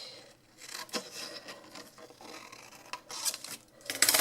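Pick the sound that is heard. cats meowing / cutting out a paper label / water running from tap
cutting out a paper label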